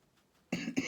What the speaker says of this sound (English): Oh, please don't start coughing